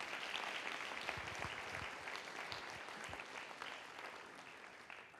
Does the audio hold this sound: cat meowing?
no